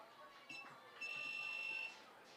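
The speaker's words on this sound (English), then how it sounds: "Something's beeping in this room." In a press box room at a girls' lacrosse game, an electronic beeper sounds faintly, first with a short tone and then a longer steady one, under a murmur of background voices.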